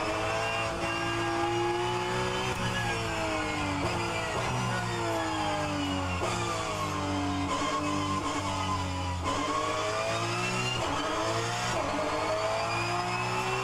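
A Porsche 911 GT3 Cup (992) race car in rFactor 2 at Laguna Seca revs its engine continuously, pitch climbing and dropping through repeated gear shifts, loud and steady with no talk.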